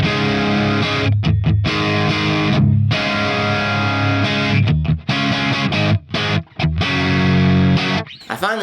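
Distorted electric guitar played through an Axe FX III modeling a Marshall 1987X 50-watt Plexi reissue on its jump setting, with loud crunchy chords and riffs broken by brief stops and gaps, heard alone without talk.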